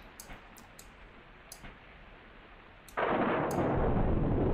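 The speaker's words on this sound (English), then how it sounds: "Did you hear that thunder?" Thunder in a video game, a sudden loud broadband rumble that begins partway through and holds steady to the end, preceded by a few faint ticks over quiet background.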